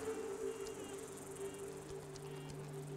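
Steady insect buzzing and chirring in the Fallout 4 video game, a faint continuous drone with a few brief ticks, heard alone without talk.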